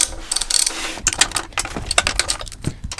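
A ratchet cracks loose the valve cover bolts on a Champion open-frame inverter generator, with a busy run of close, rapid clicking bursts and metallic mechanism noise.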